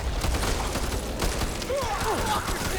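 Gunfire in the video game Back 4 Blood, a dense, continuous volley of shots with booming impacts, loud throughout, with excited voices talking over it.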